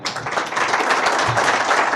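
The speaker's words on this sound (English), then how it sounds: "Another round of applause." Audience applause fills the room at a Foreign Service Academy fundraising event, dense sustained clapping from many hands, close and loud for the whole stretch.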